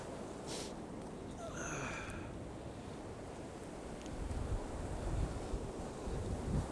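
Waves wash onto a windy Lake Michigan beach in winter, a steady broad surf roar with heavy wind buffeting the microphone, growing rougher and louder toward the end.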